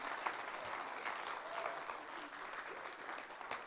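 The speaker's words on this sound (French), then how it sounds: "vous pouvez les applaudir fort" An audience claps in sustained applause, a dense, even patter of many hands at some distance, fairly faint and steady throughout with no voices over it.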